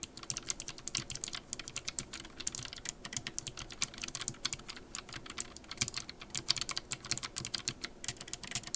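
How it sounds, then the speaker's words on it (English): Rapid, continuous clacking of a Vinpok Taptek wireless mechanical keyboard being typed on, close and crisp, with no voices. "Here's a loudness test. I mean, it is a mechanical keyboard, so that you can hear exactly how loud it is."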